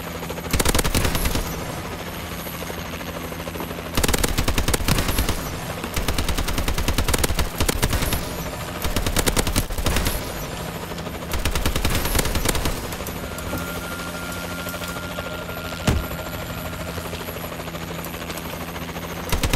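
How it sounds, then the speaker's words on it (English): A Warbird aircraft in Call of Duty: Advanced Warfare multiplayer, with a loud rotor-like roar and long bursts of rapid machine-gun fire broken by short pauses, heavy and dense throughout. "Warbird ready for deployment."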